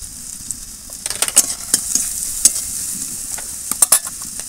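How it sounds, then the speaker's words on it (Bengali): Chopped onion frying in a pan, a steady sizzle broken by repeated sharp spatula scrapes and taps against the pan, close and fairly loud. "পেঁয়াজটা একটু ভালো করে ভেজে নিচ্ছি, একটু ভাজা ভাজা করে নিয়েছি।"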